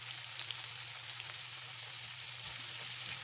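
Steady, even sizzle of fresh chopped tomato hitting a hot pan with oil, a continuous close crackle and hiss with no talking, made while cooking a ground turkey, shrimp and Cajun pasta.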